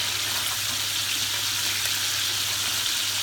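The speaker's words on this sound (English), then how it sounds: "Chris is just browning those up." Rouladen browning in a frying pan give off a steady, loud broadband sizzle that holds evenly throughout, with no talk over it.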